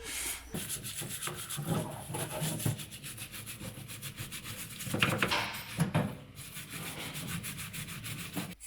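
Sliding door rollers being scrubbed at a parts-washing fountain, with steady rubbing and scraping strokes close up, a couple of louder bursts near the middle, and no talk.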